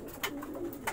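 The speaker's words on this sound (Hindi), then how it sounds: "ये कबूतर सेल के लिए है।" A Siraji pigeon gives a couple of soft, short coos close by over a steady low background hum.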